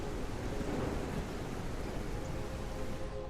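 Thunderstorm weather in the video game Cauldron Chronicles: a steady, dense roar of rain and rumbling thunder, loud and continuous, with no voices.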